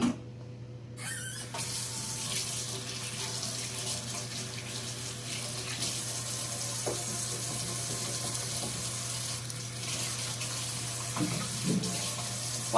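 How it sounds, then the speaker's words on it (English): Hands being washed under a running kitchen tap: a steady, close hiss of flowing water with a low hum beneath, continuous throughout after a brief quiet start, with small splashes near the end. "We're going to wash our hands."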